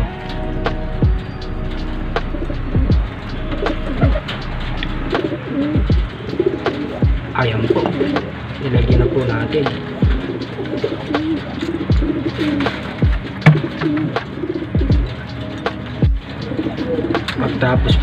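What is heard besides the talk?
pigeons cooing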